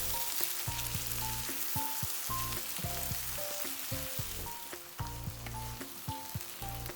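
Prawns fry in a pan for shea butter jollof, giving a steady, close sizzle for the whole stretch, with faint clicks and a soft musical tone running underneath.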